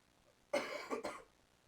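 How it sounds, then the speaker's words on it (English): A single close, fairly loud cough in two quick bursts, heard alone against a quiet room background. "Sorry, I've got a cough."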